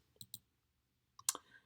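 Computer mouse clicks in Google Classroom: two quick soft clicks, a pause, then a sharper pair of clicks, close and quiet.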